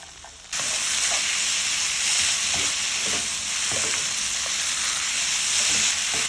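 Bean sprouts, pork and fried tofu hit a hot pan for stir-fried pink noodles and set off a sudden, loud, steady sizzle with occasional scraping stirs. It is close and continuous, and no one talks.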